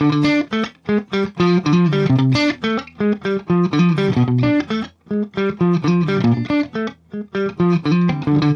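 An electric guitar plays a rapid run of picked notes in a steady, repeating pattern, clean and close, with brief pauses between phrases.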